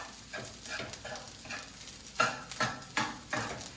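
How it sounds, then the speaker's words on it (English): Egg fried rice stirred and chopped in a frying pan, rhythmic scraping strokes over a soft sizzle, close and repeated about every half second. "So chop up the rice and the egg"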